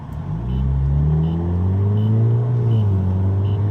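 A 2.4L Dodge Dart engine fitted with a bored throttle body runs and revs, a loud, steady close-up rumble whose pitch rises and falls through several revs with no talking.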